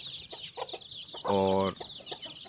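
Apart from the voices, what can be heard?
White Hira aseel rooster clucking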